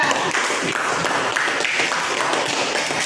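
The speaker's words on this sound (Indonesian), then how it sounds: "Tepuk tangan dulu untuk kelompok 3." Classroom applause for a student group, a dense, steady patter of many hands clapping at once, sustained and fairly loud throughout, with faint voices mixed in.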